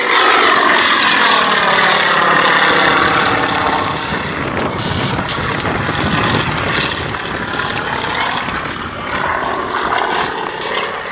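A Soviet-built propeller aircraft flies a display at the East Kirkby airshow in Lincolnshire, its loud engine drone sweeping in pitch as it passes close by and then pulls away.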